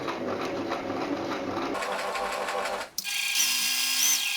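A sewing machine stitches a fabric mask with a fast, steady mechanical whir that changes speed twice, ending in a higher-pitched run, with no voices.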